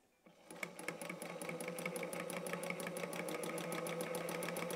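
A sewing machine running a zigzag stitch to quilt a fabric patch starts up and then runs in a steady fast rhythmic whir of needle beats, close and alone.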